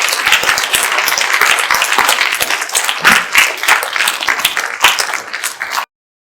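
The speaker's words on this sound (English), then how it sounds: "Thank you for clapping." An audience gives a lecture-hall round of applause, dense and loud from the start, with individual claps poking through before it stops abruptly.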